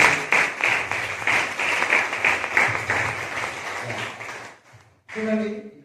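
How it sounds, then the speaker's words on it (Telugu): A church congregation claps in praise during a Sunday service, a dense, sustained round of many hands that fades out before a voice resumes speaking. "అందరం చప్పట్లు కొట్టి దేవునికి స్తుతించండి"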